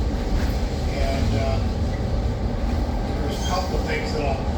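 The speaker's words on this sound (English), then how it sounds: "we'll be backing off this particular train here" A Steamtown excursion train backs up, with a steady close rumble of rolling cars and faint squeals and clanks over it, while a voice talks in the background.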